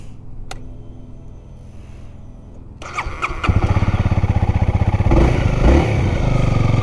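A fuel-injected Honda Rebel motorcycle starts after sitting through winter: the starter cranks briefly, the engine catches, and a loud, steady, close idle with a rapid pulsing thrum follows.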